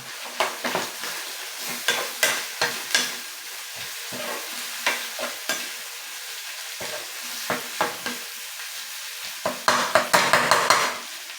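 Garlic fries in a pan under a soft sizzle, with frequent sharp stirring scrapes and clinks of a utensil against the pan, rising to a rapid flurry near the end.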